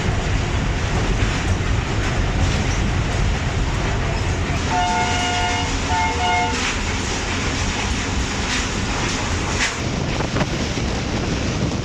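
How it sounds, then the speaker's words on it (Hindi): The 6 Down Green Line Express passes Shahdara Junction at night as a steady, close rumble of rolling wagons, with a two-part horn blast in the middle and wind buffeting the microphone. "और ये है GO20 के साथ 6 डाउन ग्रीन लाइन एक्सप्रेस"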